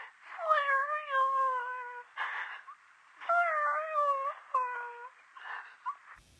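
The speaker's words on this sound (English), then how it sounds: "The voice of Flareon's cry sounds like she's sobbing, like if she's weeping out tears." A Flareon's cry in a warbling, sobbing wail with rising and falling tones, heard in several close, loud bursts separated by breathy noisy gasps, like weeping.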